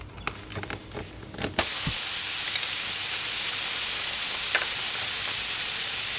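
Compressed air rushes into a car tire punctured by a nail or screw during a plug repair, starting as a loud, steady hiss after a few close handling clicks and continuing unbroken to the end.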